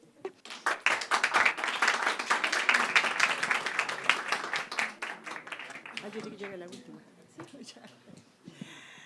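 Audience applause at a citizen forum of the Colegio de Periodistas in Valparaíso: dense clapping from the start that thins out after about five seconds into scattered claps and low voices.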